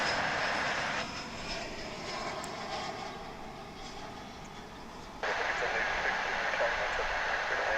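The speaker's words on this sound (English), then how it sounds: "Here's a flight coming in from Corpus Christi on the Texas Gulf Coast." An airliner inbound from Corpus Christi approaches DFW International Airport, its engines making a broad, steady roar that dips for a few seconds and then swells louder again, fairly close and continuous.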